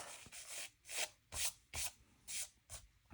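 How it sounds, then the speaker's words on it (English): Dried salt is rubbed off a watercolour painting on a balancing stone, making six or so rough, gritty scraping strokes in an even rhythm, close and quiet with no talk. "Rub off that salt."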